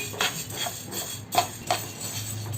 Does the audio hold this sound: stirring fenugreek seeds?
yes